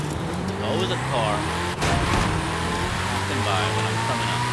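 An AI-driven car in Forza Horizon 5 passes by near the player's Hennessey Venom F5; a steady engine drone with rising and falling whine under continuous game noise, a brief dip midway, then the drone resumes.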